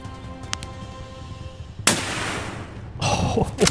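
A suppressed sniper rifle in Escape from Tarkov fires one sharp, loud, close shot with a lingering rumbling tail, then a second heavy burst follows about a second later.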